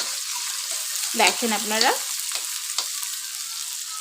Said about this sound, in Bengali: জিরাটা আমার বেশ সুন্দর ফুটে উঠেছে, এখন আমি দিয়ে দিচ্ছি বেশ কিছুটা কুচানো পেঁয়াজ